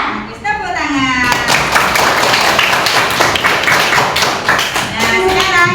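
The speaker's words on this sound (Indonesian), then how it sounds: "Bagus, tepuk tangan." A classroom of pupils claps together in a dense, steady burst lasting several seconds, with a teacher's voice heard briefly before and after.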